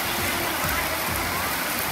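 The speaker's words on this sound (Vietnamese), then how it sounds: "mưa rất là lớn" Heavy rain pouring down at a rural Vietnamese market, a dense steady hiss that is loud and unbroken for the whole moment.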